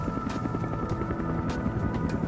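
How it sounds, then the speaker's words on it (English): Military helicopter rotor noise rumbles as a steady low drone, with periodic blade slaps pulsing through it at a regular beat. "Rotor noise, which can warn an enemy of a helicopter's approach"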